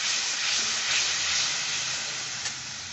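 A spice paste of coriander, cumin, turmeric and a little chili powder sizzles in hot oil for a coriander katla fish curry, giving a steady, even hiss that stays close and continuous without talk.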